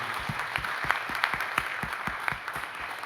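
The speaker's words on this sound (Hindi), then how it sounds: "जोरदार और शानदार ताली होनी चाहिए।" An audience at a direct-selling training session bursts into steady applause, a dense wash of many hands clapping with rhythmic accents, moderately loud, with no one speaking over it.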